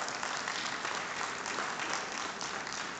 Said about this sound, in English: Guys, a big round of applause for Cristiano Ronaldo,